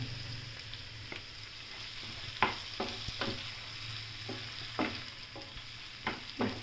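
Unripe tomatoes sautéed in a pan for a vegetable lasagna sauce, with a spatula scraping and stirring in irregular strokes over a steady low sizzle, close and moderately loud.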